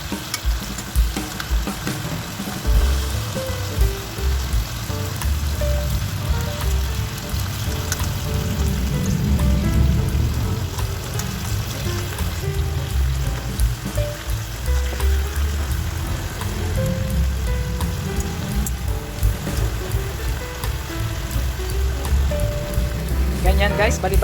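Chicken pieces fry in a pan with a constant crackling sizzle and occasional stirring and turning scrapes, while a person talks over the cooking.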